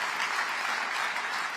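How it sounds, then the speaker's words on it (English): Audience applause at a political conference, a dense, steady wash of many hands clapping at once, loud and sustained without pause, with no voices rising above it. "give him a round of applause"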